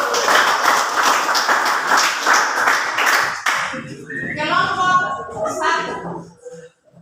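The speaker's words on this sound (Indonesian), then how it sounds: "Mari kita berikan aplaus untuk kelompok 1." A classroom of history students applauds a presenting group, dense rhythmic clapping filling the first few seconds before fading into scattered claps and chatter as voices take over.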